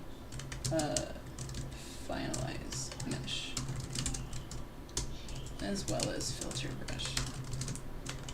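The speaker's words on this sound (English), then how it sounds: "Typing sounds." Rapid keyboard typing clatters steadily on a computer keyboard at close range while someone learning Blender sculpting talks over it intermittently.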